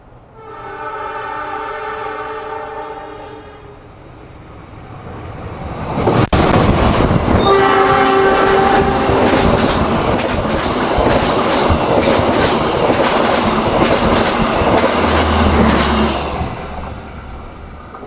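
Lodaya passenger train running straight through Bojong station without stopping: a horn sounds at first, then a loud, close rush of rail cars with steady clickety-clack wheel noise and some squeal that lasts to the end.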